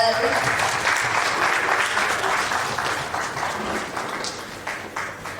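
Audience applause at a corporate rewards and recognition ceremony, dense, steady clapping filling the room for several seconds and tapering slightly near the end, with some voices mixed in.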